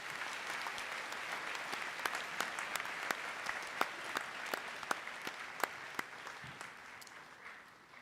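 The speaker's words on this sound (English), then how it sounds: "a special round of applause, please, for those 4 students." Sustained applause from a crowd at a school high achievers' assembly, dense clapping with a few sharper claps standing out, holding steady and tapering slightly near the end.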